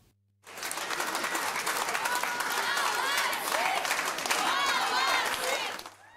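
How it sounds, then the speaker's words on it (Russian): Loud, steady applause from a crowd at Sochi airport welcoming athletes, rising quickly after a short quiet start and fading slightly at the end, with excited voices mixed in. "Вот так под звуки громких аплодисментов"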